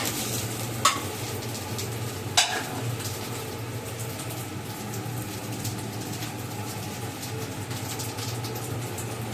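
Garlic sizzles in oil in a pan of greens, a steady crackling fry throughout with a couple of sharp clinks from a utensil near the start, no voices.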